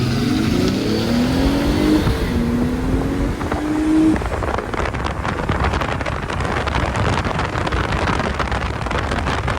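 A Mercedes SLK 300 engine revs up through rising gears, its tone climbing and shifting twice, then gives way to loud wind rush as the car speeds along.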